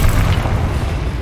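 Bombarda spell blast in Hogwarts Legacy, a loud, dense low boom that rumbles steadily for over a second without any voice.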